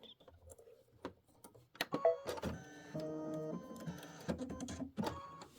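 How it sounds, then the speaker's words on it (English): An embroidery machine stitches bats in purple thread, with mechanical whirring, rapid ticking needle strokes and tonal motor hums in short bursts, close and fairly quiet with no talk. "We're going to put in some purple, and we'll sew those last two bats down."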